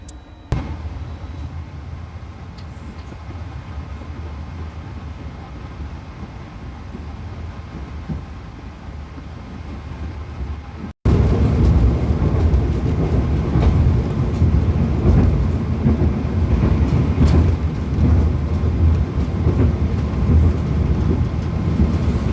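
Kereta Senja Utama Solo passenger train running on the Yogyakarta to Jakarta line after leaving Karawang station. The rumble and clickety-clack are steady, then grow suddenly louder and closer about halfway through, with no voices.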